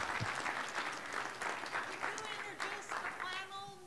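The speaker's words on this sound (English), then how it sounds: "Let's give him a round of applause," Audience applause for a panelist at a tree conference, steady moderate clapping with scattered voices and cheers mixed in, thinning out near the end.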